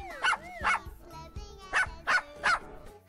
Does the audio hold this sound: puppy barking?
yes